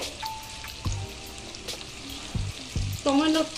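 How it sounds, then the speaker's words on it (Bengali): Tomato masala for a Bengali mutton curry sizzling in a pan as it is stirred, with a steady close frying hiss broken by a few scraping knocks of the spoon and a brief clatter near the end. "আমি এটা আবার একটু নেড়ে চেড়ে ভেজে নেব।"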